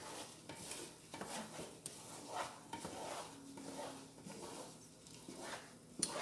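A spoon stirs a thick, boiling praline candy mixture in a pot, with repeated scraping sweeps and soft bubbling, close and fairly quiet, with no voices.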